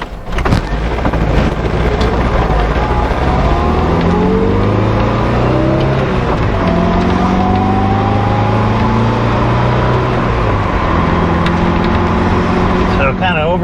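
A Triumph TR7 four-cylinder engine revs and pulls while driving, a loud continuous drone with pitch rising through the gears and a dip between shifts, road noise underneath.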